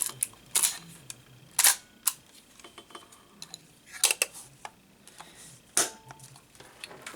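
An SLR film camera's shutter fires repeatedly up close, sharp mechanical clacks spaced irregularly, with softer clicks and winding noises from handling in between.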